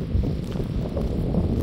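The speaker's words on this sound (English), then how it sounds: "Starting to get a bit windy." Steady wind buffeting the microphone on Ceduna Jetty in South Australia, a continuous low rumbling roar with no break and no voices.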